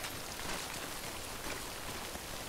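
Steady rain in the video game Death Stranding, a dense, even hiss of falling drops that holds at one level with no voices over it.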